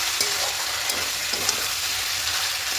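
A chicken biryani mixture sweetened with jaggery is stirred in a pan, a steady broadband sizzle with faint scraping strokes running continuously and close for the whole stretch, no voices.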